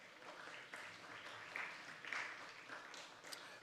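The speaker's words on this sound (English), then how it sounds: "So you give everyone else a round of applause." Graduates and guests at a secondary school graduation ceremony clap for the helpers, a faint, distant patter of many hands with a few sharper claps standing out near the middle.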